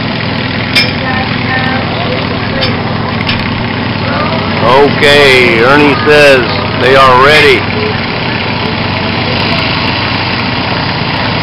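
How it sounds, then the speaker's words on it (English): A Sears garden tractor engine runs steadily at a tractor pull in the 700-pound weight class, a constant mechanical drone carrying under nearby voices that speak over it. "Pulling us one of Mike Sears tractors."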